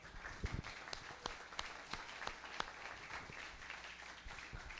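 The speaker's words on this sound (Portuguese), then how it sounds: "Pode aplaudir ao Senhor quem está entendendo." A church congregation applauding during a sermon, faint and distant scattered claps with some louder individual hand strikes standing out over a quiet room.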